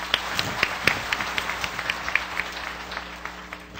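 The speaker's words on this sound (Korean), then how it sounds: "모두 뜨거운 박수로 환영해 주세요" An audience at a book launch ceremony claps to welcome a guest, a moderate patter of scattered hand claps with sharp individual strikes that gradually softens, heard without talk.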